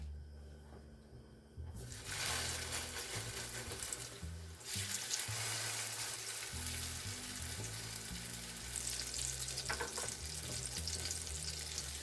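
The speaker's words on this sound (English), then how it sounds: "I'm gonna get my skillet hot, a little oil in there, brown these up, get a nice crust on the outside" Steaks browning in hot oil in a skillet: quiet at first, then a loud, dense crackling sizzle that swells and holds steady, with brief stirring or shifting, no talk.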